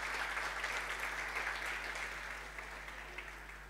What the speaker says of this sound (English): I'm not sure if it quite warranted all that applause